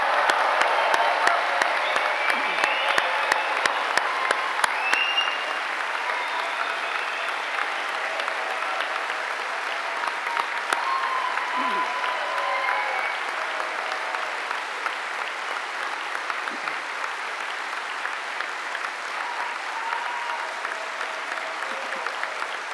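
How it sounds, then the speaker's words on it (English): A large audience at a university degree ceremony gives graduates sustained applause, a dense, even roar of many clapping hands that holds at a steady level for over twenty seconds, strongest at the start. "giving all of our amazing graduates a huge round of applause"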